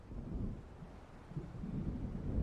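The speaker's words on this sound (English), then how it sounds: "It seems there's a storm coming." Faint, low thunder of an approaching storm rumbles in Alan Wake Remastered, a soft distant grumble that rises slightly toward the end.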